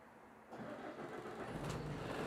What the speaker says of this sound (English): I'm going to turn my vehicle on and start the engine.